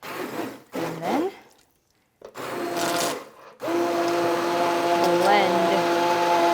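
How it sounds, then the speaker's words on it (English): An immersion blender purées chickpea tomato soup in a pot, its steady motor whine running strong through the second half after brief bursts and a pause, with a voice speaking over the early part. "immerse my immersion blender,"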